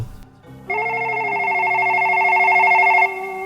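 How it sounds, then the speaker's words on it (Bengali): A telephone rings within a song, a steady electronic trill of rapid pulsed tones lasting a few seconds over a sustained low musical note, loud and close. "ফোন বাজছে ধরছ না যে"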